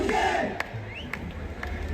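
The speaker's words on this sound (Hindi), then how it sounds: "कम ऑन, जोरदार तालियां हो जाए।" A crowd at a Sindhi Chetichand festival stage show in Delhi cheers and claps: a brief, loud burst of shouting and applause that thins within two seconds, with a few sharp claps standing out.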